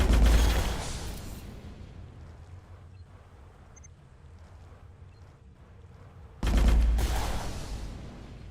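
Enemy fire in the Dolls Nest video game comes in two loud, dense bursts of volleyed shots, one at the start and one near the end, separated by a quieter rumbling stretch.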